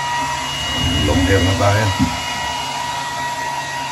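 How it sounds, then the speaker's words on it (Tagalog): A hair dryer blows steadily throughout while someone talks over it, in a very cold setting in Alberta where hair is being dried before going out. "maingay yung blower"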